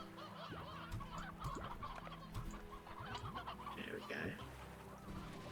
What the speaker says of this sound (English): Quite too many roosters in here.